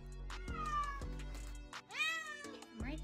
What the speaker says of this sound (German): This has to be the most dramatic cat